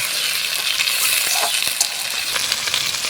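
Spices stirred into vegetables in a hot pan for a Bengali fish curry with taro and potato: a steady bright sizzle with scraping, scuffing strokes of a spoon throughout, close and fairly loud.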